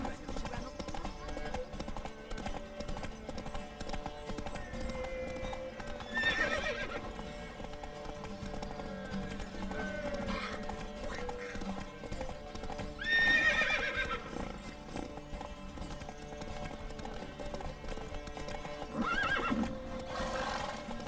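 Roach, a horse in The Witcher 3 game, gallops through a race with steady clip-clop hoofbeats and occasional whinnies standing out, all set against a busy, continuous game backdrop.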